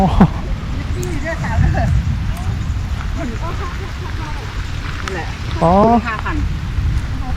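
Rain falls at Tham Phra Nong Pla Pha cave near Thakhek, Khammouane, Laos, a steady broadband hiss running underneath close, dominant talking.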